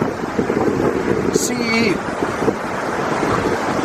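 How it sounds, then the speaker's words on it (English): Wind gusts and rushing water of South Boulder Creek in Eldorado Canyon, Colorado, form a loud, constant roar close to the microphone, with a person speaking briefly over it. "It's really noisy in here between the wind and between Boulder, South Boulder Creek."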